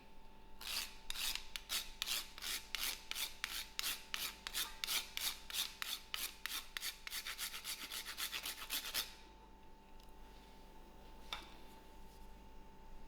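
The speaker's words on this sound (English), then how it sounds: "I'm also going to use a quick grind of nutmeg" Whole nutmeg is grated for hot cross bun dough in a rapid run of dry, scraping strokes for about eight seconds, close and crisp, then the grating stops and only a quiet room remains.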